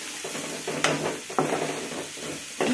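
Grated raw mango fries with salt and turmeric in a pan, a soft steady sizzle broken by a few sharp scraping stirs of the spatula.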